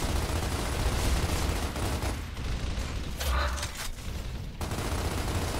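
Enemy Locust gunfire in Gears of War pours in as a dense, continuous roar of automatic shots that stays loud and steady from start to finish, with no voices.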